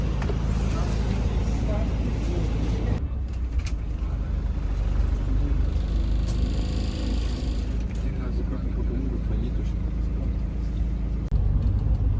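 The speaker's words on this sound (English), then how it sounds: "And of course, we are taking the bus." Steady engine drone and road rumble inside a moving public city bus in Vladivostok, continuous and fairly loud throughout, with a brief change partway through.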